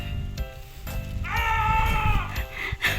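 A single drawn-out goat bleat rises and wavers for about a second, fairly close, over a low rumbling background, with a short sharper cry at the end.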